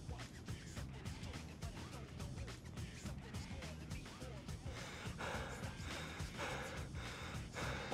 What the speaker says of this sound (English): Why is he panting so loud?